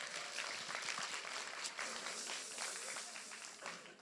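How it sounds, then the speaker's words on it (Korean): Steady applause from a church congregation during a worship service, dense clapping throughout at a moderate distance, with no talking. "화이팅의 박수 한번 합시다."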